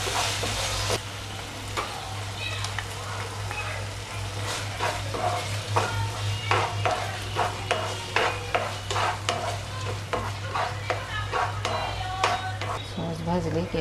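Soy sauce, red chilli sauce and green chilli sauce frying for paneer chilli, a constant sizzle under repeated scraping stirs and spoon clicks that grow busier midway, with a voice talking faintly at times.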